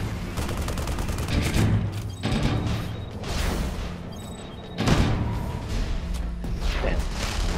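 Rapid gunfire from the chain cannon in the video game Tribes Ascend, sustained bursts of loud, dense shots with booming impacts, pausing briefly before firing resumes.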